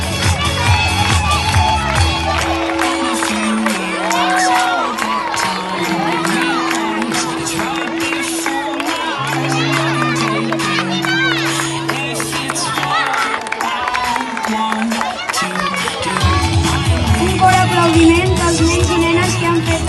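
A loud crowd claps and cheers for a sustained stretch at a Sant Jordi festival performance, with shouting children and voices mixed into the applause.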